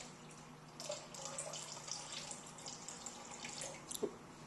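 Red wine vinegar trickles faintly onto a kitchen scale for a raspberry dressing, a soft, quiet liquid pour with a few small drips near the end and no voices.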